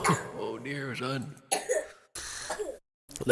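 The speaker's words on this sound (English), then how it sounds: "That's the sound of a cougher, poor feller." A person coughs in a few rough bursts, heard after a stretch of speaking, fairly close and clear.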